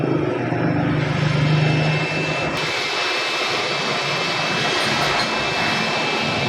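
A Honda 125 motorcycle engine runs after repair, giving a loud, continuous roar with a steady drone and no clear speech over it.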